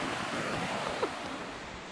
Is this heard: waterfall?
yes